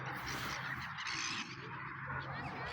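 Swans and ducks honking on a lake in Poland, a dense, continuous chorus of calls heard at a moderate distance.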